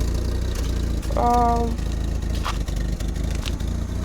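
A Peugeot 505 2.0 engine fitted with a double barrel carburettor idles at a steady low rumble, with a brief tonal whine near the start and occasional faint clicks over the constant engine note.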